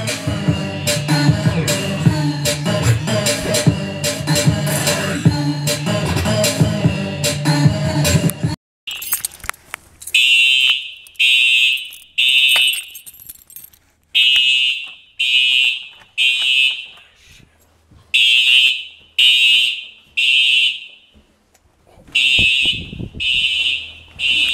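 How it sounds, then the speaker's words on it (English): A fire alarm sounds in the Stonebridge mansion during a fire, first buried under loud music, then ringing clearly alone as a series of sharp, repeated bursts. "Oh, the fire alarm's going off."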